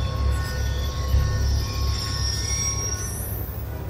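A train rolls past in Call of Duty: Black Ops II, its wheels squealing in a long, loud, steady metallic screech over a deep rumble. A rising whine comes in near the end, and there is no talk.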